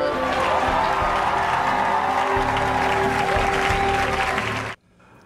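Broadcast crowd applause and cheering from a televised comedy sketch, a thick, continuous roar of clapping with tonal undercurrents that cuts off abruptly near the end.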